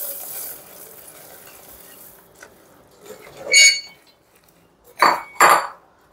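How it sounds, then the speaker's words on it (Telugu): Dry fruits and coconut stirred into jaggery syrup for chikki, a faint low simmer broken by a few sharp clinks and scrapes of a spoon against the pan. "వేసుకుని బాగా మిక్స్ చేసుకుందాం. ఈవెన్ కోకోనట్ కూడా వేసేసుకుందాం."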